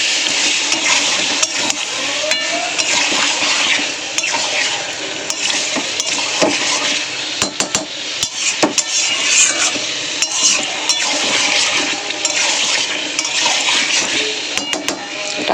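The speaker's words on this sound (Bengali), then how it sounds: "আর একটু ভালো করে কষাবো আমি" Spice masala with potatoes sautés in oil, a loud, busy sizzle with frequent scraping and clacking of a spatula against the pan, continuous throughout without speech.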